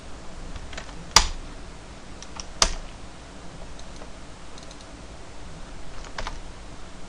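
Sparse clicks of a computer keyboard while text is typed into a VB.NET combo box property, a handful of light keystrokes with two sharper, louder taps standing out in a quiet room.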